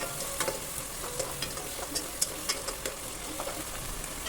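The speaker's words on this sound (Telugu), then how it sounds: "ఇది పచ్చివాసన పోయే వరకు చక్కగా ఫ్రై చేసుకోండి." Two tablespoons of ginger garlic paste frying in a pan for goat head curry, a steady sizzle with scattered stirring clicks, close and moderately loud, no voices.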